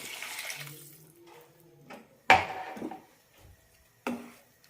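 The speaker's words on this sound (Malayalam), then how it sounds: "ഇതിലേക്ക് ഒരു കപ്പ് വെള്ളം കൂടി ഒഴിക്കാം" A cup of water poured into a pot of long beans curry with tamarind, a short gurgling splash followed by a couple of sharp clanks of utensils against the pot, with no talk.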